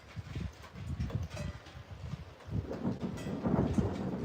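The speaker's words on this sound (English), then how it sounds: "There's the thunder." Low rolling thunder rumbles in uneven waves, deep and fairly distant, rising toward the end with a soft wash of rain behind it.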